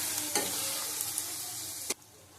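Chicken kosha being stir-fried in a pan with salt added, giving a steady sizzle under a few sharp spatula scrapes and taps, one louder clack near the end.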